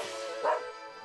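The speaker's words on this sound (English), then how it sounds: "They're treasured not only for their enormous size, but also for their breathtaking bark." A Tibetan Mastiff gives one short, deep bark near the middle, standing out over a steady low background hum.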